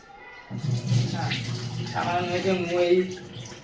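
Okra is rinsed under a running kitchen tap, producing a soft splashing flow of water while a person talks over it.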